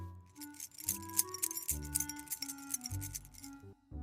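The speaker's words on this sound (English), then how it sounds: "Clara, do you have your keys? Yes, I have them in my hand." Keys jangle in a hand, a bright, scattered metallic clinking that rises and falls in short bursts, close and moderately loud, with a low background hum and no voices.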